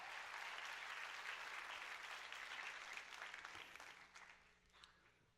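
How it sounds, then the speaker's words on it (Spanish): A church congregation applauds during a Spanish-language worship service, dense sustained clapping that holds steady before thinning and fading away toward the end, heard at a distance and fairly quiet. "Levantémosle un aplauso al Rey, por favor."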